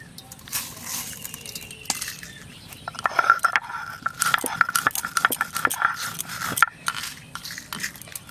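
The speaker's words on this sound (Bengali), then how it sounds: "ভাজা মশলাটা বেটে নেব।" Fried spices are coarsely ground for a raw mango pickle, heard as close, irregular crunching and knocking bursts with a thin whine in the middle stretch and no talk.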